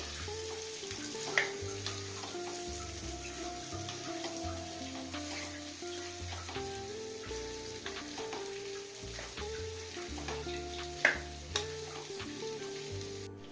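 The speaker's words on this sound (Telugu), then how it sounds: "కూరని మధ్య మధ్యలో ఇలా తిప్పుతూ ఉండండి బాగా ఫ్రై అయ్యే వరకు" Chicken curry with masala sizzles and fries in a pan, with a steady crackling hiss and the periodic scrape and clink of a spoon stirring, plus a couple of sharper knocks against the pan, close and clear with no talking.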